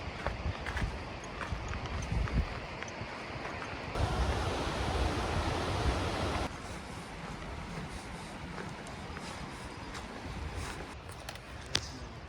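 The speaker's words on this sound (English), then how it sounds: "So this would be Lily Creek cascading down to the confluence." Lily Creek cascading down toward a confluence in the Emigrant Wilderness, a dense steady rush of falling water, loud and close, with footsteps and small knocks scattered through it.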